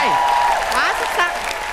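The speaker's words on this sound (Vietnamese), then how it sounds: "Vỗ tay" Studio audience on a Vietnamese TV game show applauds, clapping running steadily under voices talking and exclaiming over it.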